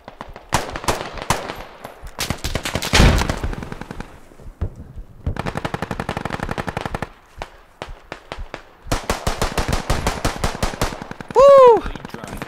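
Automatic rifle fire in the military shooter game Squad crackles in rapid bursts of close, sharp shots, broken by short pauses, with one loud whooshing tone near the end.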